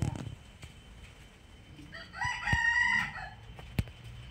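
Chickens in a chicken house, with one rooster crowing loudly near the middle amid soft clucking, background rustles and a sharp knock.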